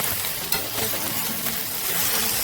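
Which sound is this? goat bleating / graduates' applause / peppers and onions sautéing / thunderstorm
peppers and onions sautéing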